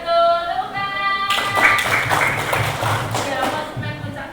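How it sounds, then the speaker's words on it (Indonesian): Schoolchildren in a classroom clapping their hands together after a teacher's cue, a burst of mixed, slightly uneven claps starting after a short pause and continuing for a few seconds, close and fairly loud. "Tepuk tangan."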